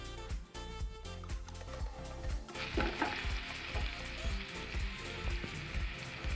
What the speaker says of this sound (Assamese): এইখিনি 1 মিনিটৰ কাৰণে ভাজি ল'ম